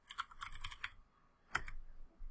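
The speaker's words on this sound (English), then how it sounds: "we want to type in the command ipconfig" Close, crisp keystrokes on a computer keyboard enter the ipconfig command: a quick run of clicks, a brief pause, then a single firmer key press and a few more taps.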